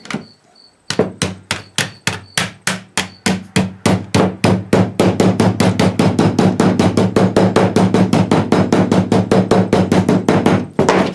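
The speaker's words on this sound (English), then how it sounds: "I'm pushing this way while I'm hammering." Rapid, steady hammer blows ring out, a few spaced strikes first, then a long fast run of sharp metallic hits close by.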